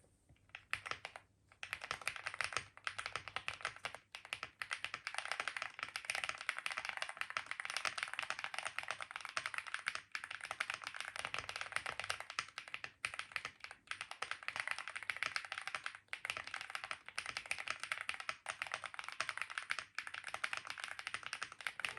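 Continuous brisk typing on an ND75 mechanical keyboard tried across various mounting options, dense clacking keystrokes heard close and alone, with a brief pause near the start.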